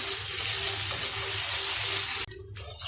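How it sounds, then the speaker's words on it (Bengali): Stuffed pea dal fritters fry in hot oil in a pan, a loud, steady, crackling sizzle up close that cuts off abruptly near the end, leaving only faint low noise. "বাকিগুলো দেখুন আমি ভেজে নিচ্ছি"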